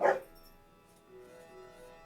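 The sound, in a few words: dog barking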